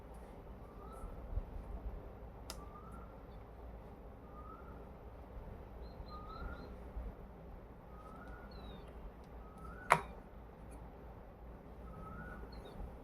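An electronic buzzer circuit built from blocks gives faint, regularly spaced chirps like a small bird, about one a second, over low background hiss with two sharp clicks.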